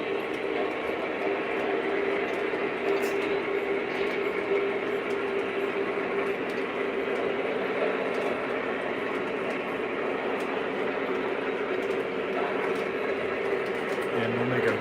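Conrail train with a GP30 locomotive moving, a steady low rumble and mechanical rattle that holds evenly throughout, with faint voices in the background.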